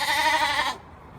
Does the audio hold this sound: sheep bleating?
yes